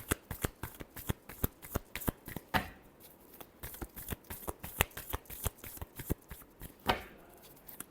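Tarot cards shuffled by hand in a quick run of crisp riffling slaps and flutters, close and fairly loud, with two longer bursts of cascading cards, and no voices.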